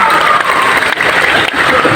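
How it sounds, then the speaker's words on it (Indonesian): Loud, dense applause from a large audience at an Islamic boarding school haul opening event, sustained and close, with a crowd murmur mixed in throughout. "Tepuk tangan dan senang hari ini"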